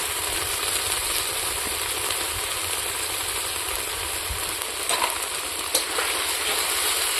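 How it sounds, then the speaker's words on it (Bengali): Spice paste frying in a pan with turmeric and salt, a steady loud sizzle and hiss throughout, with a few faint scraping stirs near the end. "লবণ হলুদে মশলার সাথে ভালো করে মিক্স করে ভাজা ভাজা করে নিব"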